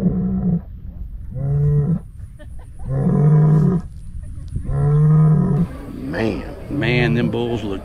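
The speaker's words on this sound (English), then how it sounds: "Did you see this bull?" A South Poll bull at a cattle field day gives about five loud, close, drawn-out bellowing moos in a steady series. Brief gaps separate the calls.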